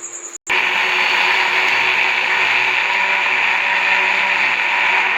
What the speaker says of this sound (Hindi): और अब इसे करेंगे ग्राइंड।